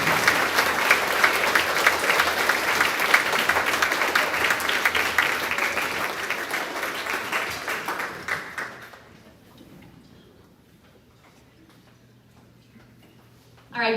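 Students and parents at a grades 4–6 school awards assembly give a long round of applause for two award winners, lively clapping that lasts about eight seconds, then dies away into near silence.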